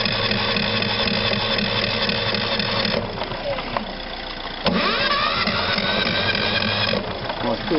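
A Kipor Sinemaster 6000 petrol generator fires up and runs, a loud close mechanical drone that dips briefly partway through and then returns with a rising surge in pitch, continuing steadily to the end.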